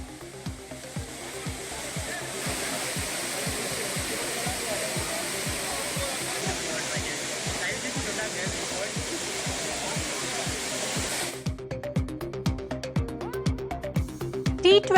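Steady rush of falling water at the Old Courtallam waterfall, a broad continuous roar with a rhythmic thumping pulse running beneath, growing harsher and louder near the end.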